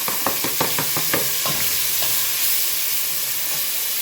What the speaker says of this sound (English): After that, I'm going to mix it well, then add in the red onions